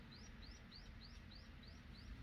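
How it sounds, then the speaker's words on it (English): Repeated high, rising bird chirps in a steady morning series, fairly faint over a low background rumble, with no one talking. "Just hearing the sounds of birds"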